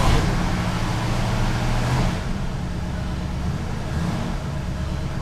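A car engine runs at a raised idle during an ignition analyzer test, a steady low rumbling drone that drops slightly in level after two seconds and holds even to the end.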